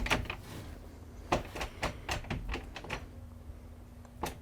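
Someone tries a locked door in a run-down house, a series of sharp rattling knocks and clunks as the handle is worked repeatedly, fairly close.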